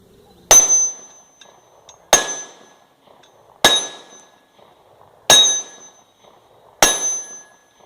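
A Walther PPS M2 pistol fired strong hand only at an 8-inch steel target 10 yards away: five evenly spaced shots, each a sharp crack followed by a bright ringing clang, with no talking.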